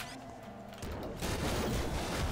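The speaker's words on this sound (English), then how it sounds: "Plasma rifle." Plasma rifle shots in the top-down shooter Nuclear Throne, a dense burst of rapid energy blasts that grows louder partway through and keeps up as continuous layered firing against game sounds.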